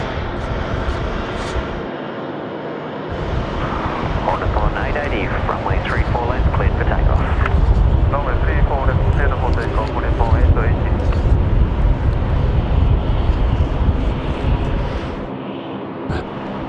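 Airplane landing at night at Sydney Airport, a loud sustained jet roar swelling and holding close, with air traffic radio speech mixed over the engine noise.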